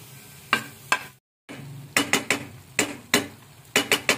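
Crab fat (taba ng talangka) sizzles in a pan with a little oil under repeated sharp scraping strokes of a spatula, following a quick irregular rhythm with one brief pause.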